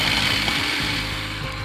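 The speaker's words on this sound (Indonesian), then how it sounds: "kita pulse, jadi kita hidupkan sampai nanti dia berbentuk seperti pasir" A food processor pulses a third of a cup of very cold butter, giving a loud, steady mechanical whirring buzz that runs unbroken for about two seconds with no voices.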